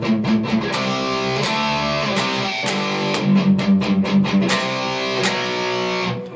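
Distorted electric guitar plays a song's verse line slowly, picked power chords and palm-muted chugs in an uneven, deliberate rhythm, close and fairly loud with no voice.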